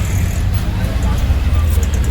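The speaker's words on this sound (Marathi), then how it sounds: "आम्ही आता बसतो रिक्षामध्ये." Steady engine drone and road rumble from inside a moving auto rickshaw, loud and continuous for a short stretch with no speech.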